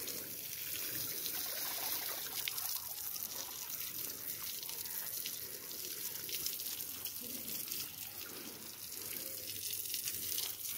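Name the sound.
water poured over buffaloes to wet them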